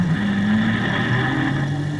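A steady, close engine drone from a 1968 Alfa Romeo race car at the Bathurst Hardie-Ferodo 500, pulling into the pits to change a faulty wheel, holding a constant tone with no talk.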